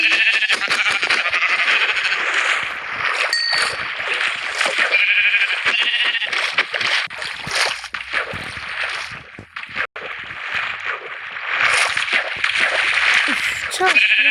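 Repeated Minecraft sheep bleats, loud and close, overlapping one another in a busy stretch, with voices talking in between.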